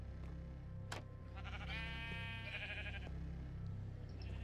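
A sheep bleats repeatedly while being sheared in a video game, several wavering, nasal cries close by against a steady low background hum.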